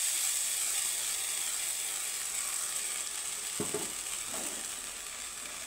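Spice masala frying with onions in a pan makes a soft, even sizzle, with a couple of faint stirring scrapes near the end.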